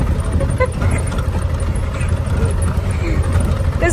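An auto rickshaw, a tumtum, drives along a village road, its low engine rumble and road noise steady and close, with people talking over it.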